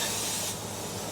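Brake cleaner hisses from an aerosol can onto an old carburetor in one continuous close spray, loud and steady for just over a second, with no talking.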